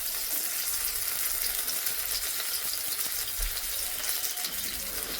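Egg-dipped brinjal slices fry in a hot pan, giving a loud, continuous sizzling hiss that stays even throughout, with no talking.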